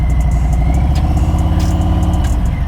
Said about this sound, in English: If you can hear the engine working, I'm not revving it really hard, just finding that spot,